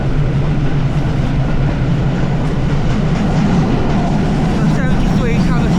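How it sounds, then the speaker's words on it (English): A heritage Bluebell Railway train hauled by a class 73 electro-diesel locomotive with a 600 horsepower diesel engine crosses a viaduct, heard from on board as a loud, steady rumble with wheel clatter and someone talking over it. "We are now on the viaduct out to East Grinstead behind 73133, otherwise known as E6040, the Bluebell Railway."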